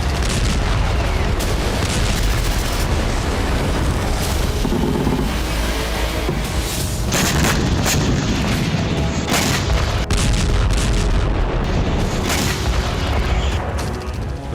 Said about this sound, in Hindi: कीव में 25 से ज्यादा बड़े धमाके हुए